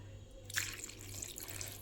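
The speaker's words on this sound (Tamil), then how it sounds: "இப்போ தேவைக்கு கொஞ்சம் தண்ணி ஊற்றலாம்" Water is poured into a pot of Marthandam-style anchovy aviyal with drumsticks, made without coconut. A steady splashing stream starts abruptly and runs on under a low background hum.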